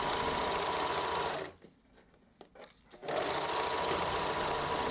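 A sewing machine runs steadily and loudly up close while stitching the front lining of a bolero, then stops briefly for a corner with light handling clicks, and resumes at full speed.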